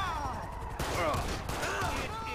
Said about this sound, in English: And they're shooting him.